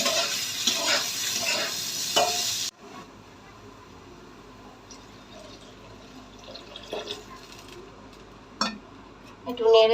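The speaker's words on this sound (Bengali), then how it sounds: "পুরো চালটা ঢেলে দিলাম, ভালো করে একটু নেড়ে নেব।" Turmeric-coated rice stirred in a cooking pot: a loud, steady sizzle for the first few seconds gives way to quieter scraping and occasional light clinks of a utensil against the pot.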